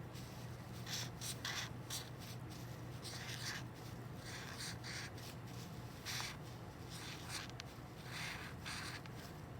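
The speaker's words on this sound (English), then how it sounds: "Can you write it without looking at it?" A pencil writes a word on paper, faint repeated scratching strokes in short bursts over a quiet room hum.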